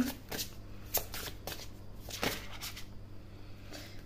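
Tarot cards being shuffled by hand, a run of crisp riffling bursts with short pauses between them, close and fairly quiet, no talking.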